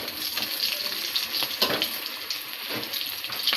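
Batata vada frying in hot oil as the fritters are flipped, a steady crackling sizzle with a few gentle splashes and bubbling bursts, close up with no talking.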